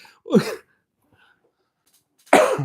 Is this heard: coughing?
yes